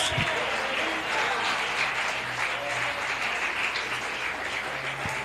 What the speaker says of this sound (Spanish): Alguien que aplauda la gloria de Dios.